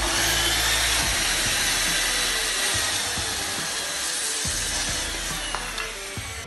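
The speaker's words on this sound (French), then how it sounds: "On fait un essai directement sur du châtaignier." A portable circular saw fitted with a Freud blade cuts through chestnut wood, giving a loud, continuous whining rip close by that eases toward the end, with no talking.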